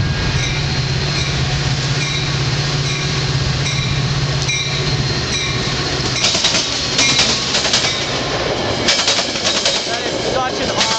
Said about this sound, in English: Yeah, we got a train.